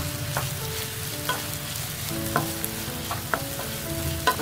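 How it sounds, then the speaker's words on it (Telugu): Spices and onion pieces fry in hot oil with a continuous crackling sizzle, while a utensil stirs them and scrapes the pan in several soft, irregular strokes. "ఆయిల్ హీట్ అయింది ముందుగా మనం తీసుకున్న స్పైసెస్ ని వేసుకుందాము వేసుకొని వెంటనే మనం తీసుకున్న ఈ ఉల్లిపాయ ముక్కల్ని కూడా వేసుకుందాము"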